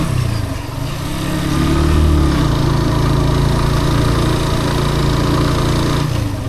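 Vehicle engine labouring up a steep slope in low gear, a close, loud, steady drone that rises in pitch early on, then holds firm before easing near the end.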